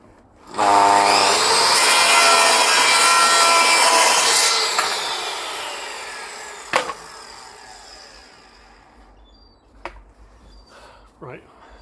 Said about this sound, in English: I should have bought a plunge saw, but I'm using the miter saw to do a straight cut